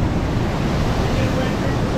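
Heavy rush of Virgin River water pouring through a raised flood-control gate, a loud, steady broadband roar with no breaks, close to the microphone with some wind buffeting.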